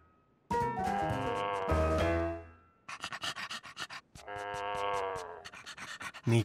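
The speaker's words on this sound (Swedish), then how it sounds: "inte bry sig om ljud som muande hundar" A cartoon dog moos like a cow in an animated children's show, two long drawn-out moo calls separated by a burst of quick rhythmic panting, loud and close.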